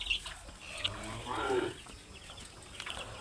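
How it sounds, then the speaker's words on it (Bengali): Weakened turkeys clucking faintly and intermittently while being carried to a farm after a long journey, a few soft calls spread across the short span. "এই দেখুন টার্কি মুরগি খুবই দুর্বল হয়ে গেছে, অনেক পথ অতিক্রম করে এসেছে।"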